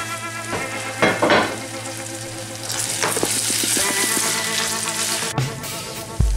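Onions and garlic fry in a hot pan for cabbage rolls, giving a steady loud sizzle with occasional scrapes and clinks of stirring, and no voices.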